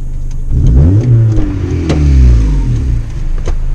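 A 75-horsepower Honda Civic with a loud aftermarket exhaust revs and accelerates close by, its droning engine note sweeping up and down through several pulls in a rough, tractor-like rasp.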